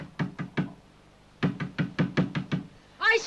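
Knocking on a door in a Turkish comedy film scene: three quick raps, a short pause, then six firmer, evenly spaced knocks, fairly close, before a voice begins to speak.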